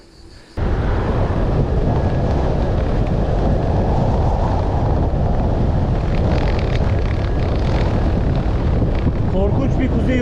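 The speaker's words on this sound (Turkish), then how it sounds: "rüzgarı var." Steady, strong mountain wind on a bicycle tour near Karagöl, Artvin roars and buffets the microphone, starting abruptly and continuing loudly without a break.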